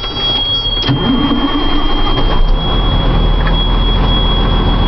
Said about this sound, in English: What I'm gonna do is I'm gonna turn on the truck.